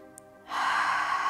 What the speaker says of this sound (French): Je donne tout ce que j'ai pour ces 3 dernières respirations